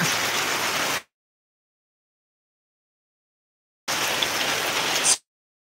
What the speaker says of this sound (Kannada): ಮಳೆ ಚೆನ್ನಾಗಿ ಆಗ್ತಾ ಇದೆ